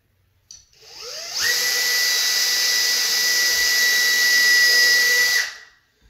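A power drill bores a pilot hole into wood trim while Levolor cordless blinds are installed in a window, a steady high whine lasting about four seconds that starts and stops sharply, close and loud with no talk.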